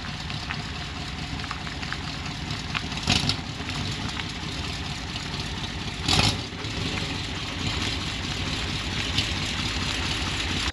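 A square-body truck engine idles through two Cherry Bomb mufflers with a steady, raspy exhaust drone, punctuated by two brief louder bursts.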